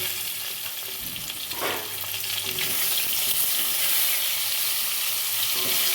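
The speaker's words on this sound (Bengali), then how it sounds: "বেগুনগুলো আমি ভালো করে ভেজে নেবো" Brinjal pieces seasoned with salt and turmeric fry in a pan with a steady, close hissing sizzle, interrupted by a couple of soft knocks of stirring.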